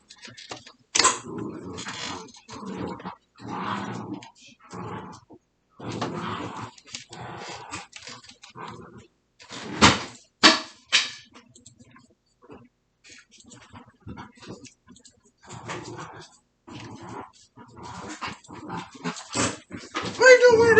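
Dogs growl and whimper in short, scattered bursts close by in a casual podcast setting, interrupted by sharp knocks and thumps while people talk intermittently around them.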